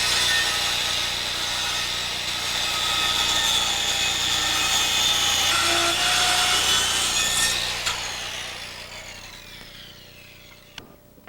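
Hand saw cutting a compound miter through a wooden framing board, steady back-and-forth rasping strokes close by for most of the stretch, then slowing and ending with a faint final knock.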